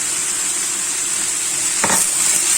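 Chicken, onions and peppers fry with added spices in a pan for fajitas, giving a loud, steady close-up sizzle with a brief stirring scrape near the end.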